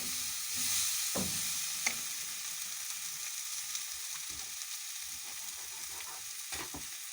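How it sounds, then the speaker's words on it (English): Tomato paste being stirred into a pot of oxtail cooking in hot oil, with a steady sizzle and frying crackle throughout and a few soft scrapes of stirring. "Lastly, I'm going to add tomato paste."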